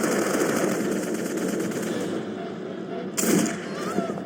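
Gunfire in a film shootout: dense, loud automatic bursts crackling continuously, dropping off briefly before another loud burst cuts back in near the end.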